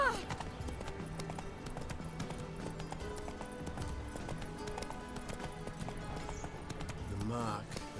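The horse Roach in The Witcher 3 galloping with steady clip-clop hoofbeats, set under continuous game music and background voices, with a brief whinny near the end.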